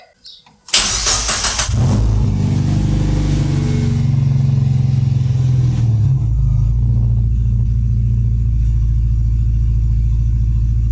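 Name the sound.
Mazda MX5 engine starting and idling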